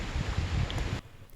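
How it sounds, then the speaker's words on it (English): Strong wind buffeting the microphone on a Mediterranean beach on the island of Corfu, a steady loud rushing roar that drops off abruptly near the end. "Really windy"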